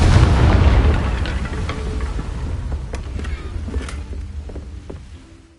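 A Confringo fire spell blasts in Hogwarts Legacy, a loud, close, deep boom that rumbles at the start and then fades slowly over several seconds.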